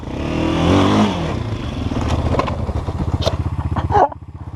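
A motorcycle engine revs while riding an off-road enduro track in the dark and wet, first surging loudly, then settling into a rough, pulsing low idle with throttle blips and clattering, up close.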